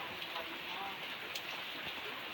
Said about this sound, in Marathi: पाऊस भरपूर आहे ना, कालपासून पाऊस पाहिजे होता ना आपल्याला।